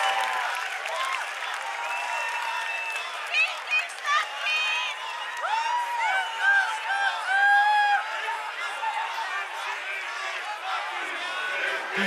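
A festival concert crowd applauds and cheers at Fishing on Orfű 2021, a dense wash of clapping that swells in bursts while a performer speaks over it.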